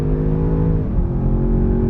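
A tuned 800 hp Land Rover Defender Octa roars steadily on the Nordschleife, its engine and exhaust droning loudly and continuously with a slight shift in pitch midway.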